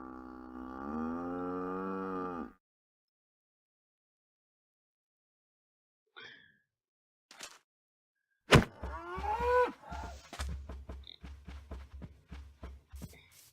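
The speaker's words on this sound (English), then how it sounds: "There was lots of cows here." Cows in the video game Minecraft moo, with a long drawn-out low moo up front, then after silence a few short clicks and a burst of busier game sounds and lowing at the close.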